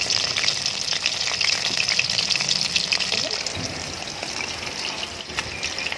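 Anchovies deep frying in hot oil give a dense, bright crackling sizzle that runs continuously at close range, with faint stirring and a brief voice murmur underneath.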